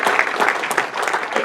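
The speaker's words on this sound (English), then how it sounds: "suggest another round of applause if you don't mind" A dinner audience honouring a guest gives a round of applause, a close, steady patter of many hands clapping for a second or two.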